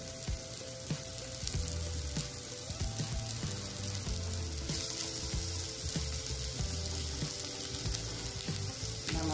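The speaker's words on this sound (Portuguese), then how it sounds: "Baconzinho nela pra fritar." Bacon sizzles in an already hot pan while being fried for a mangarito dish, a steady, close, continuous crackle that runs the whole time beneath faint sustained tonal sounds.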